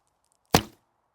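A heavy bow with a draw weight of around 120 pounds looses an arrow: a single sharp, loud thwack that decays quickly into silence.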